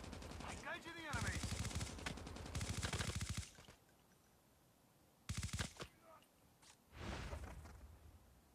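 Automatic gunfire from the Call of Duty Mobile video game comes in several loud, rapid bursts split by short quiet gaps, with a sharp whoosh between them.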